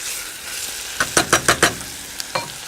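Onions sautéing in a pan: a low sizzle followed by a quick run of four or five sharp spatula scrapes and stirs, then one more stroke, close and fairly loud, no voices.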